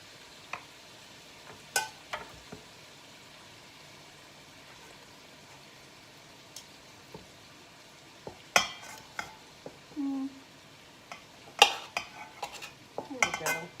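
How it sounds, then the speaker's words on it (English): Vegetables sautéing in a home pantry-challenge meal, with scattered clinks of a utensil against the pan and soft stirring scrapes over a faint sizzle, quiet at first and busier toward the end. "My vegetables are starting to saute."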